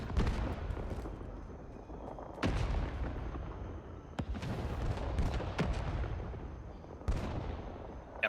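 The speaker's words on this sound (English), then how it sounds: "plenty of rifle nades coming in" Rifle grenades exploding in Rising Storm 2: Vietnam, several sharp loud blasts with rumbling tails among ongoing gunfire, some near and some farther off.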